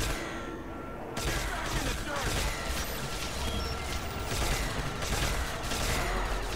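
Rapid, sustained gunfire from a gun in Call of Duty Zombies on the Nacht Reimagined map, a dense run of loud shots over busy game noise that keeps going to the end.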